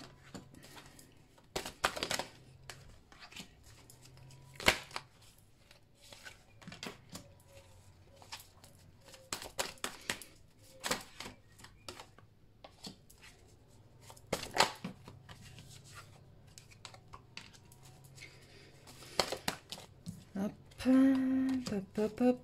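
Oracle de la Triade cards are shuffled and handled in irregular bursts of soft riffling and slapping, with quiet gaps and someone speaking at times between the card noises.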